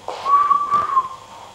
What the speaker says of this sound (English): He copied us, but he whistled exactly the same back